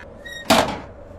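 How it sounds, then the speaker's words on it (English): A heavy bang on a front door in the Chilla's Art horror game Cursed Digicam lands as one loud, close thud after a faint chime, then fades into a low background hum. "instantly hears some loud knocks coming from his"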